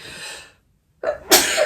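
A woman sneezes loudly and sharply at close range during a home unboxing, preceded by a short breathy inhale and a pause.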